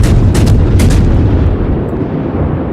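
Heavy naval gun salvos from a cruiser in World of Warships, several booming shots in quick pairs over a loud rumbling sea-battle backdrop, close and forceful.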